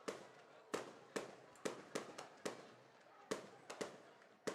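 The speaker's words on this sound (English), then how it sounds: "Nice fireworks show here." Fireworks bursting at a high school football game between Boyd County and Greenup County, a series of sharp distant booms and crackles spaced irregularly under faint crowd noise.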